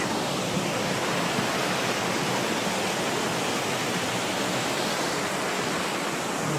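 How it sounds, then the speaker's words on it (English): A steady, rushing roar of a waterfall in Glen Nevis, broad and unbroken throughout, with no voices. "Waterfall."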